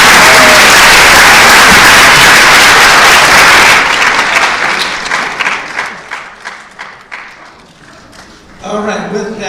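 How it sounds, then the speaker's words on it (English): Loud, dense audience applause at the close of a final presidential debate roars for several seconds, then thins into scattered individual claps and fades before a brief late swell. "Could we please have a round of applause?"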